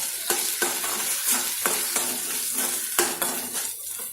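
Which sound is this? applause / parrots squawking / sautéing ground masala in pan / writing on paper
sautéing ground masala in pan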